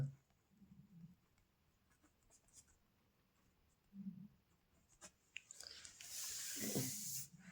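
A teacher writes on a board during a Class 10 maths lesson on triangles. Faint, scratchy strokes come in short bursts and swell into a louder, busier stretch of writing near the end, in a quiet room.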